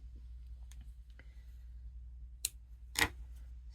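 A few sharp snips of scissors in a quiet room, the last one louder, with faint clicks scattered before.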